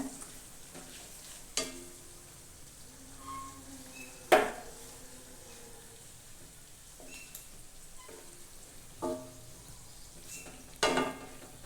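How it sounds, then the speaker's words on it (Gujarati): Whole masala-stuffed bitter gourds (karela) sautéing in oil in a pan, with a soft, steady frying hiss and occasional scattered clinks of a stirring spoon, quiet and close, with no voices. "જેથી કરીને કારેલા બધી સાઈડ સરસ તેલમાં સાતળાઈ જાય"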